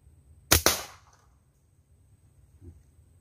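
Handmade slingshot fired at a 45 degree angle: a sharp double snap of the band release, close and loud, followed by silence and a faint distant knock.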